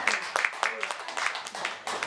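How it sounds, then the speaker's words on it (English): Audience members at a talk on the Yoruba language clap in a brief, uneven patter of hand claps under ongoing speech. "We can clap for that."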